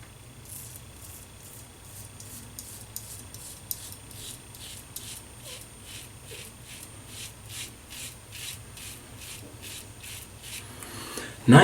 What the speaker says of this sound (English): here is the razor, the Occam razor. So let me wet it and let's do the shave.